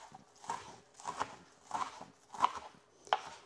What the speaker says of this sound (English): I'm just going to give it a chop